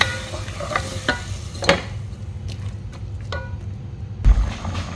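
Prawns with half a teaspoon of cumin sautéing in a pan for a pumpkin curry, a steady low sizzle broken by a few sharp scraping stirs of the spatula, with a louder clatter near the end.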